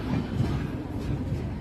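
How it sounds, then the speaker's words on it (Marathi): A passenger train runs on the rails on a journey in India, a steady low rumble and rolling wheel noise heard from inside, continuous and fairly loud. "आता ट्रेन आम्हाला भेटली आहे. चला तर प्रवास चालू करूया."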